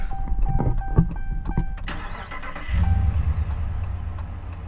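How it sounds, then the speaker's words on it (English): A 2019 Ram Rebel's onboard air compressor switches on partway through, a steady low mechanical hum settling in after a few clicks and brief rattles, running close and continuous with no talk. "And I'm gonna have to turn the compressor on."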